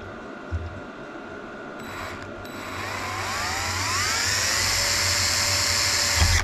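A small power drill whirs steadily, its pitch rising and straining as it bores small holes through metal for a diesel heater, close and continuous for several seconds.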